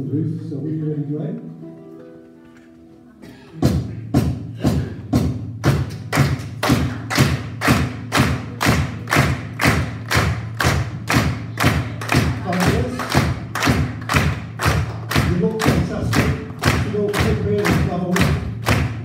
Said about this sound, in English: You can all clap along, stamp your feet, smack your jewellery, do whatever you like.